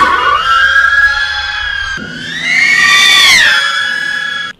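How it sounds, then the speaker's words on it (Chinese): A drone with a single asymmetric propeller flies overhead, giving a loud, steady whining buzz with clear harmonic tones that dips, then rises and bends in pitch as it passes, with no talking. "这是无人机飞行的时候发出的噪音"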